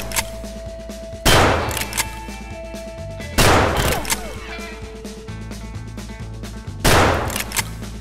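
Gunfire in the video game Escape from Tarkov: three loud, booming shots spaced a couple of seconds apart, close by, each trailing into a rumbling decay over a steady background hum.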